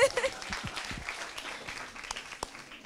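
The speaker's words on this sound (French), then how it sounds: "On applaudit." Fairly faint applause from the audience of a children's TV quiz show after a correct answer, with scattered hand claps spread across the clip and voices murmuring over them.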